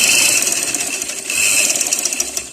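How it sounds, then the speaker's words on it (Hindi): A sewing machine runs fast and continuously while stitching a sleeve cuff, its rapid needle chatter close and loud, dipping briefly midway before resuming. "ये बिल्कुल कॉर्नर से ऊपर से एक और सिलाई लगाएंगे"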